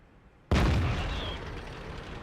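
Single heavy tank cannon shot in World of Tanks: a sudden loud boom after near silence, trailing into a long rumbling decay.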